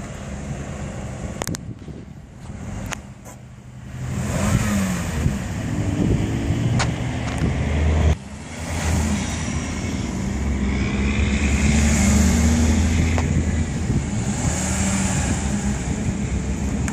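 A Nissan car's engine drones and revs steadily at close range as it drives into and flattens a bush, with continuous low rumble and a brief dip and surge midway.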